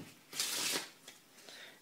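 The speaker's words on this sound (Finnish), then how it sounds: "Ja sekoitetaan ne yhteen." A deck of playing cards, half of it turned face up, riffled together by hand in a quick close burst of crisp fluttering, followed by a few softer taps and slides as the cards settle.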